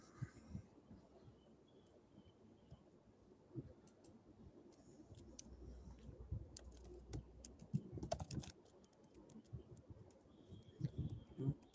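Rapid, uneven computer keyboard typing during an online management meeting, a run of light clicks and taps at close range with a brief busier burst, no talk over it.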